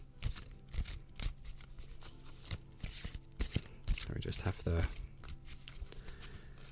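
Cards riffle and slap together in quick bursts, close to the microphone, while a person talks softly over them.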